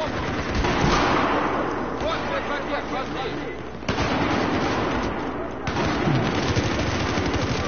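Battlefield 4 combat erupts in dense, rapid gunfire with heavy blasts, including a grenade explosion, that roll continuously through the scene while voices are faintly mixed in.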